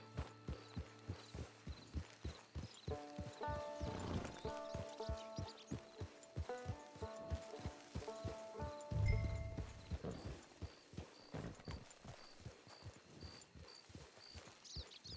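Horse hooves clip-clop in a steady walking rhythm in the Red Dead Online video game, with a brief snort and a louder thump partway through, set against a soft musical backdrop and no speech.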